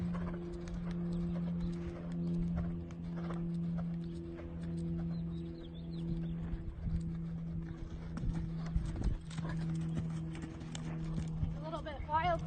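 An off-track thoroughbred's hoofbeats thud in a steady, rhythmic clip-clop as the horse is ridden through lead changes, with a voice talking over the strides throughout.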